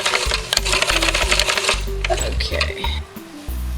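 A sewing machine stitches neoprene in quick bursts of loud, close mechanical chatter, stopping and starting several times with brief pauses between runs.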